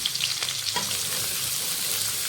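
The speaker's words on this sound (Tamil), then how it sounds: "கருவேப்பிலை, வெங்காயம், 2 பச்சை மிளகா. இதை நல்லா வதங்கட்டும்." Onions, curry leaves and two green chillies sauté in a pan with a steady, close sizzle and light stirring scrapes throughout, no voices.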